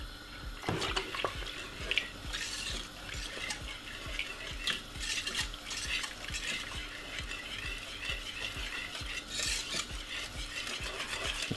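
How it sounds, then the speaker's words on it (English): Spoon stirring a white cheese sauce with milk in a pan, with steady rhythmic scraping strokes close up and a light bubbling underneath, no voices. "Keep stirring it just like that, guys."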